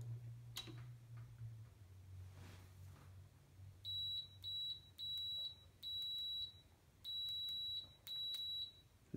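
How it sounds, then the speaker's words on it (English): Buzzer on an Agilent/HP 34401A bench multimeter beeping in six short, sharp, evenly spaced bursts after a quiet opening with a low hum and a few faint clicks. "The screen flashes faster than the buzzer can."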